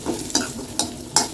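Boiled, chopped sweet potato pieces are stirred in a frying pan, giving three or four quick scraping strokes over a soft sizzle, with no voices.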